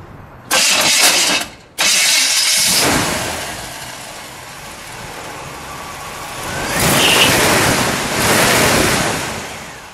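A loud Chevy 350 V8 engine in a 1959 Cadillac Series 62 Custom cranks and roars to life, then settles into a rumbling idle with gusty wind noise over the microphone.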